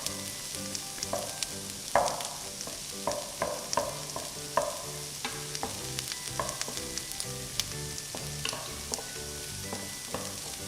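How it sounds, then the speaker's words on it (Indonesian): Onions fry in hot oil with a low steady sizzle while a utensil taps and scrapes the pan in an irregular stirring rhythm. The sound is close and fairly quiet, with no talk. "jadi aku mau masukin bawang bombaynya terlebih dahulu. Nah kita aduk aja begini."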